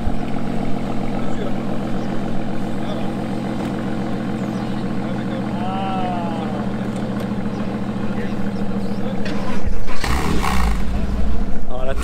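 An Aston Martin V12 at a supercar rally roars loudly and continuously nearby, its note rising and swelling sharply toward the end.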